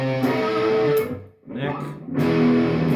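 An EKO electric guitar played through its bridge pickup with a distorted tone, ringing sustained notes and chords up close, broken by a short pause midway.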